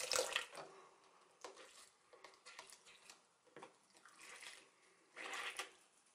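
Tap water runs and splashes over makeup sponges held under it, with irregular bursts of splashing and dripping that swell and fade, close and fairly quiet, with no talking.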